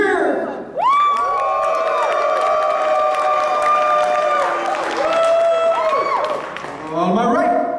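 An audience at a live startup pitch event cheers and whoops loudly with clapping, sustained shouts rising and falling, with a brief dip before a second burst of cheering.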